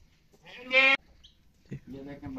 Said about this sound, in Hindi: बकरियां आ गई,